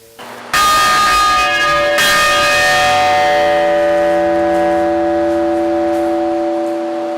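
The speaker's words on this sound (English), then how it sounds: "This bell was very famous and can make a lot of noise" A large bell is struck twice, loud and close, each strike ringing out with rich sustained overtones that slowly fade over several seconds.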